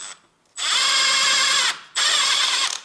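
Power tool with a 17 mm socket loosening a drive shaft bolt on a Honda Civic 1.8 R18A1, two loud sustained whirring, ratcheting bursts, the second shorter, separated by a brief pause.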